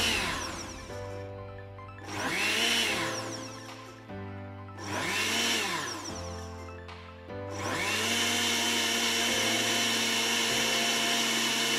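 A Bosch blender motor runs loudly in its cleaning mode in surges, revving up and easing off several times before settling into a steady, continuous whir.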